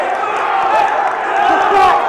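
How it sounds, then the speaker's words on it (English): Teammates at a college men's wrestling match cheering and yelling encouragement from nearby, a loud burst of overlapping shouts that swells toward the end. "His teammates cheering him on."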